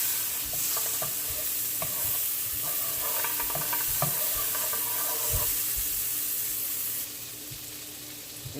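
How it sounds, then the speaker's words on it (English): Margarine sizzles steadily in a hot frying pan on low heat, with occasional stirring scrapes and clinks over a constant frying hiss. "put 1 tablespoon of margarine in my frying pan"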